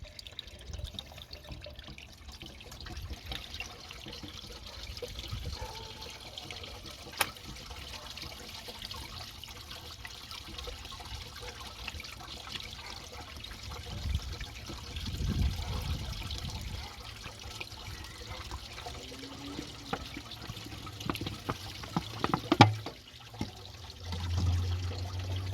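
Water is poured into a Toyota Sienna's engine cooling system during a timing belt and water pump job, making a faint, intermittent trickle with occasional clunks and a louder splash near the end.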